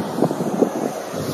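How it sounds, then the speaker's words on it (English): Wind buffets the microphone in low, uneven gusts at Maroubra, Australia, a rough rumbling whoosh with no voices. "And it's pretty windy up here."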